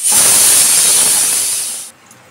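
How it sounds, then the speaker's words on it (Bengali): Chickpea and chicken kababs fry in a pan of hot oil, giving a loud, steady sizzling hiss that runs for about two seconds and then cuts off abruptly. "এই যে এখানে কাবাব ভাজা হচ্ছে"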